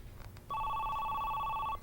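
A telephone rings with one steady electronic trill that starts about half a second in and holds for over a second in a quiet indoor room.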